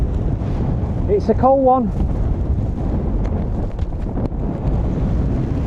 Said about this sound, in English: Windy as well.